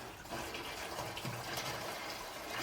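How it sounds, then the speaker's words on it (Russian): Corn moonshine distillate from a second distillation pours steadily into a small keg, a continuous watery gush and splash that runs without a break. "Сейчас сольем это вот в этот бочонок, померим спиртуозность"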